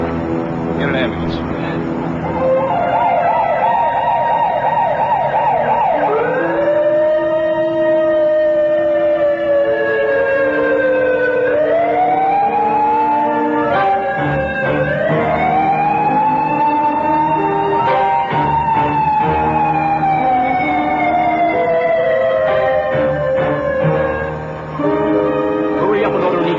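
An ambulance siren wails in long rising and falling sweeps, loud and continuous, with voices talking over it in a tense 1978 hospital emergency scene.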